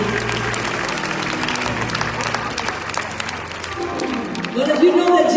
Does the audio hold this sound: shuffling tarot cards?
no